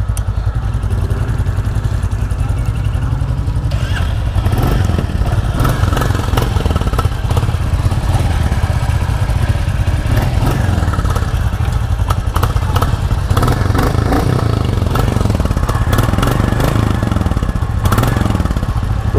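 A Royal Enfield Bullet 350 single-cylinder engine idles steadily close by, a loud continuous thumping with a metallic clatter on top and no talk over it.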